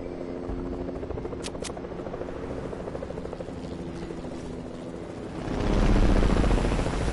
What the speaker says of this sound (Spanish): Se llevan el helicóptero de la agencia.